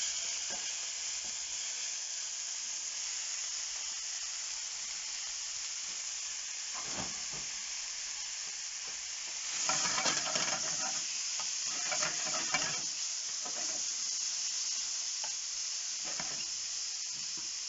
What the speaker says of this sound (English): And meat straight in.